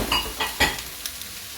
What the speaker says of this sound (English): chicken frying here, vegetables frying off here.